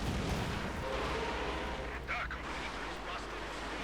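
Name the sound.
Katyusha rocket artillery barrage in Company of Heroes 2 video game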